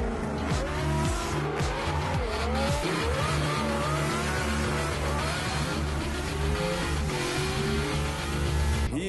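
A race car drifting sideways, engine revving and wailing while tires squeal in long, warbling bursts, loud and continuous across several seconds of sliding.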